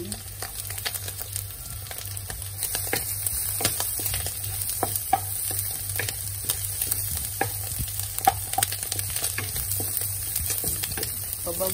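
Garlic browns in a pan for a simple lunch box meal, producing a steady close sizzle with a low hum beneath and scattered stirring clicks and scrapes, while no one speaks.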